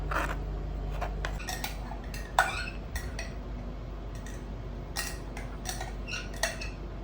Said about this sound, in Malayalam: അപ്പം ഇതിനകത്ത് തേങ്ങാപ്പാൽ നമുക്ക് മിക്സ് ചെയ്ത് കൊടുക്കാം.